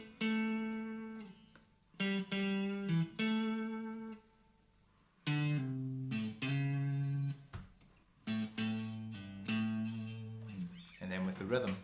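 An electric guitar plays short bluesy pentatonic fills on its own, a few quick phrases of sustained notes separated by clear pauses of silence, close and fairly quiet.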